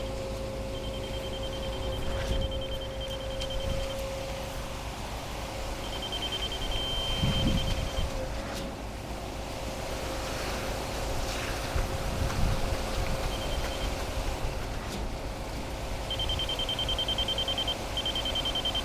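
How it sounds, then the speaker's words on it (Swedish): Electronic beeping from a height-measuring device on a drizzly construction site for a house foundation, heard as steady high tones that come in stretches over continuous wind and machinery rumble. "det som piper det är ju då att de får ut höjden precis hur högt det ska vara"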